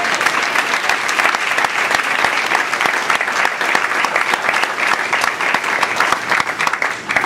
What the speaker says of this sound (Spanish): ¿Cuántos pueden darle un aplauso a Jesús?